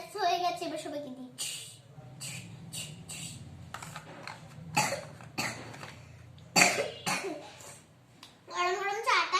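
A child coughs in a series of short, harsh bursts spread over several seconds, with childlike vocal sounds and squeals between them, close and fairly loud during indoor doll play.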